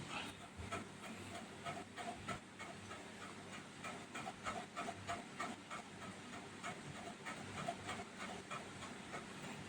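Minced pork for a Thai chili dip sizzles and hisses in a pan. A spatula scrapes and stirs it in a quick, regular rhythm, quiet and close.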